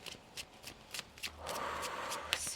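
A deck of tarot cards is shuffled up close, with quick riffling flutters at a steady rhythm followed by a longer, softer run of sliding card sounds.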